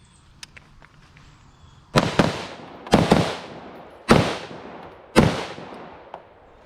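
Four loud gunshots crack at a shooting range during a box drill, spaced about a second apart after a quiet lead-in, each with a sharp onset and a short echoing decay.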